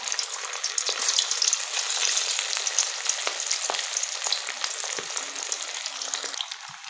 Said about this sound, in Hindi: अब इसे हम शैलो फ्राई करेंगे। फ्राई करने के लिए ऑयल हमने अच्छा सा गर्म कर लिया है। अब इसमें हम डालेंगे सीख कबाब।